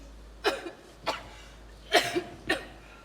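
A man coughing four times in a quiet room during a rainy night, separate harsh, close bursts spaced about half a second to a second apart.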